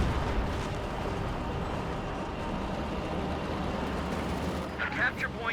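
Soviet artillery barrage in the real-time strategy game Company of Heroes 2, a dense continuous rumble of distant shelling and gunfire blended into a wall of battle noise, with a caster talking over it.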